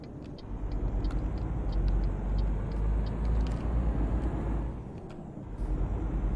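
A heavy truck engine in Euro Truck Simulator 2 rumbles steadily and loud, its low drone swelling and easing slightly as it pulls away slowly, with faint clicks and hiss above.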